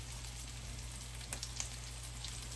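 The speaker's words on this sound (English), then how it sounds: "The fish should sizzle when it hits the pan. You should hear it sizzling." Parmesan-crusted walleye frying in hot avocado oil in a pan gives a steady, faint sizzle that runs through the whole stretch, with a couple of small crackling pops near the middle and no voices over it.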